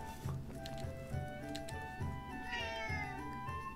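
A cat meows repeatedly in the video game Zelda: Echoes of Wisdom, drawn-out caterwauling calls over steady game music.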